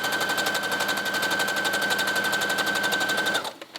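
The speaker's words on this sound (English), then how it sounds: "So doing a basting stitch helps me get it all together first." A sewing machine runs a basting stitch on a bomber jacket, a fast steady mechanical rattle with a thin whine that continues evenly for several seconds, then stops.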